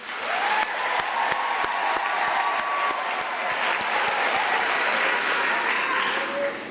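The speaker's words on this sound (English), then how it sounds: "another round of applause for family, friends, and everybody who have provided support" Sustained crowd applause fills a university spring graduation ceremony hall, steady dense clapping from many hands throughout, loud and continuous with no speech over it.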